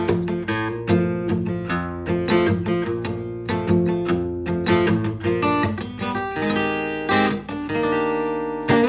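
An acoustic guitar strums a verse of major 7 chords in F near an F barre shape, played in a steady rhythmic pattern, close and clear with no voice.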